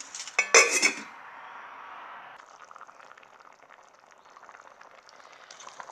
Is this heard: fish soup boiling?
yes